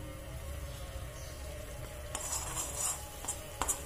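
Dry ginger powder roasts in hot castor oil with a quiet, even crackle, then a spoon scrapes and stirs against the pan in soft bursts near the end; no voices.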